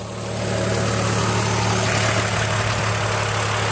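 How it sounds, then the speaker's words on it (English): A Chevrolet Trailblazer engine idling steadily just after start-up, a close, loud, even hum with a constant low drone and no talk over it. "I'm going to show you how nice it idles now"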